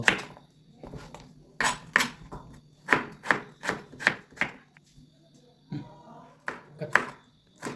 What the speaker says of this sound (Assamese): এচিড বুঢ়া কোমোৰা সৰু সৰু টুকুৰা টুকুৰকৈ কাটি ল'ব